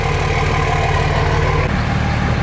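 A Cummins-swapped vehicle's engine idles steadily through a straight-through muffler, a loud, even low rumble that drops slightly in pitch partway through, with no talking.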